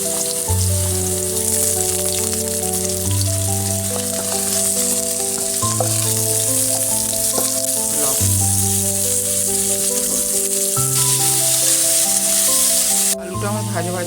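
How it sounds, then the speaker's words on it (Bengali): Potatoes fry in hot oil in a kadai with a steady, close sizzle running throughout, loud and continuous beneath strong sustained music. "আলুটা আমার ভাজা ভাজা হয়ে গিয়েছে"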